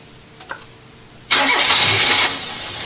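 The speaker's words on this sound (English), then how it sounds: "The engine started anyway." A Toyota car engine, with the vacuum sensor connector unplugged, cranks briefly and catches into a loud, close roar, then settles to a steady idle.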